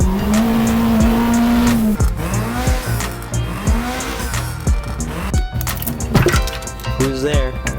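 A sport truck accelerating hard on a quarter-mile run, engine revs climbing and dropping through repeated gear shifts, loud and close, with a voice talking over it.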